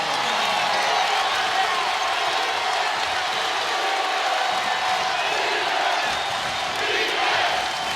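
Arena crowd at an Alabama versus Mississippi State college basketball game, a dense, steady roar of cheering and shouting that fills the space without letting up.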